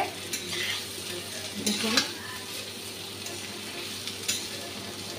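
Potato pieces fry with turmeric and salt in a pan, a soft steady sizzle broken by a few stirring scrapes and knocks, close but fairly quiet, with a brief spoken word.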